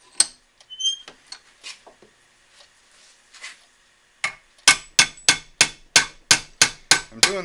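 A hammer pounds a knife guard into place, starting with scattered light taps and then a steady run of about ten sharp, loud metallic blows in even rhythm.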